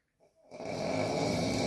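A single drawn-out snore from a sleeping person, beginning with a faint catch and then swelling into a steady, throaty rattle heard up close in quiet surroundings.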